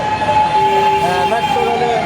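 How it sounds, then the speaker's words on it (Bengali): A metro rail train at a station rumbles steadily with faint tonal whines over a broad, continuous hum, heard up close with no talk. "মেট্রো রেলে"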